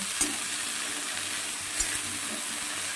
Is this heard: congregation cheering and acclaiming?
no